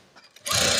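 A sewing machine stitches a blouse, starting after a quiet pause and then running steadily and loudly for about the last half second.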